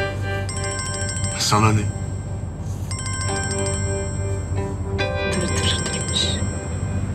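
A telephone rings in repeated electronic bursts, a bright trilling ringtone that sounds three times with pauses between, while people talk over it in a domestic drama scene.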